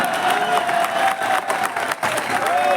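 A large audience at a Hindi kavi sammelan poetry recital claps steadily and densely for nearly three seconds, with crowd noise mixed in and a faint sustained tone running underneath, briefly dipping near the end.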